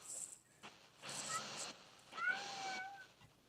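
A cat meows in two separate drawn-out calls, fairly faint and close, with quiet gaps between them and a softer cry at the start.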